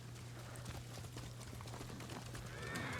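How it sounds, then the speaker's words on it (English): Horse galloping and neighing in the video game Ghost of Tsushima, a steady run of hoofbeats over a constant hum, with a rising whinny near the end. "Let's call my horse then and go back."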